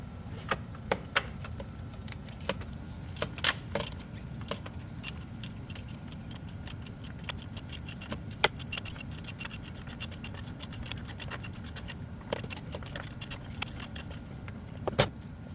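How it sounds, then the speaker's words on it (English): A 27mm socket loosens the oil filter cartridge on a 2021+ Ford Bronco 2.7L V6, making a quick run of light metallic clicks, ticks and jangles that go on steadily with no talking. "we're going to go ahead and remove that using a 27mm socket"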